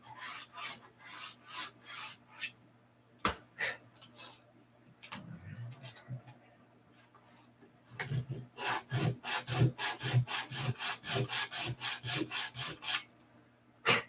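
Wood is sanded by hand in a home garage workshop with soft rasping strokes, some spaced apart and some in short pairs, then a quicker, louder run of regular back-and-forth strokes near the end.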